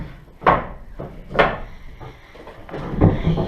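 A half door in a garage apartment under renovation is worked loose and handled during removal, giving three separate woody knocks and bumps at a moderate distance in a quiet room.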